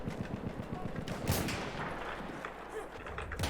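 Battlefield 1 gunfire: a fast burst of rapid automatic shots in the opening second, then scattered louder reports, over a steady battle din with speech-like noise.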